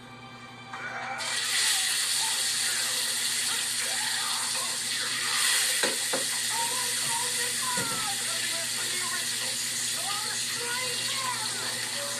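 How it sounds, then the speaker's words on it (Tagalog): Fish frying in a hot pan, a steady loud sizzling hiss with crackles and pops running throughout, close by, with people talking over it. "Prito ko isda."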